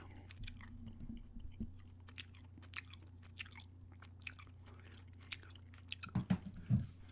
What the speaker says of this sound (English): Doing a gum chewing ramble here today